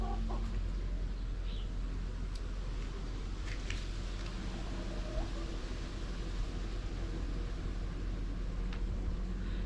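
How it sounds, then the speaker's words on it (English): Backyard chickens cluck softly and scratch while pecking through alfalfa and chicken scratch on a frosty, snowy morning, their calls scattered over steady outdoor noise. "So I went ahead and gave them some alfalfa and some chicken scratch. So they are happily sorting through everything, pecking around like chickens do."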